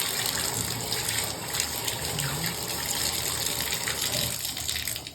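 Shower water runs steadily from a tap, a dense continuous hiss and splash held at an even level throughout with no voices.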